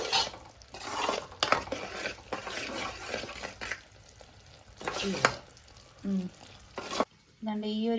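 A spoon stirs a sticky peanut candy mixture with ghee in a pan, producing close scraping and soft sizzling strokes in uneven bursts, with a few sharp clinks near the end.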